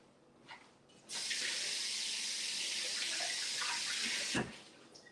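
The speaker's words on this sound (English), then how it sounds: "And then here we have the broccoli. Rinse this off." Broccoli rinsed under a running kitchen tap while making jar salads: a steady, loud hiss of water streaming for about three seconds, starting and stopping abruptly, with a small clunk as it shuts off.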